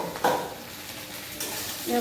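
Stirring pumpkin in a hot wok with a soft sizzle underneath, scraping strokes coming in a few short bursts.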